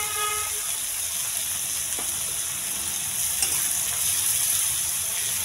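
Egg frying in a pan with finely chopped onion and ginger spread around it, a steady close sizzle with faint crackle running throughout, with no talking.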